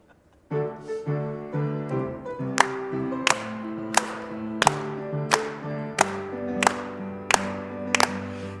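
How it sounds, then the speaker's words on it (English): A congregation at a Shabbat service claps in a steady, even beat along with a sustained melodic accompaniment, each sharp clap landing regularly over the sung tune. "Please clap."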